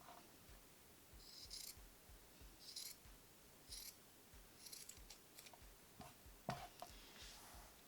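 Scissors cut through folded fabric for a crossed-front turban base, a series of quiet, separate snipping clicks spread across the stretch with soft handling noise between them and no talking.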